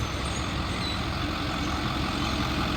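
A 2009 Ford F-550 XL stake truck with a 6.4 liter diesel engine idles steadily, a continuous close, loud rumble with no speech throughout.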